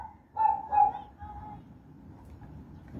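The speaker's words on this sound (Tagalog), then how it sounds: "Mag-iingay yung aso dyan." A dog lets out two quick barks at close to moderate range, then quieter low background noise follows with no other distinct sounds.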